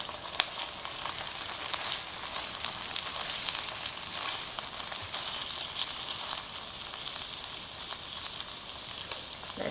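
Kotlet, Persian meat patties, frying in a good amount of vegetable oil in a pan, a steady dense sizzle with faint crackles and pops running evenly throughout, close up, with no voices.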